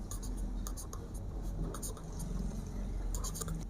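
Marker or chalk writing on a board during a maths lesson, close, crisp scratching taps and strokes in quick irregular bursts over a faint room background.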